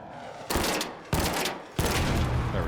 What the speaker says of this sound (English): Those gunshots sound like they're on my level.